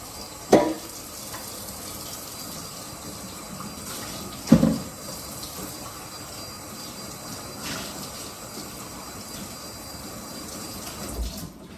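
Water from a kitchen tap runs steadily while a bowl is rinsed, a continuous hiss broken by a few sharp knocks and clunks as the bowl is handled.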